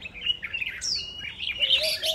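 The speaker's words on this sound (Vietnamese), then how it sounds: "Con này thì nó là chim" An older wild-caught forest bird chirps in a cage in a bright, close series of tweets and whistled calls with short gaps between them, heard alone without speech.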